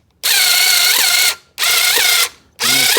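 A power screwdriver drives screws back into a car headlight assembly, whirring loudly and close in three sustained bursts of about a second each with a rising ratchety pitch, separated by brief pauses.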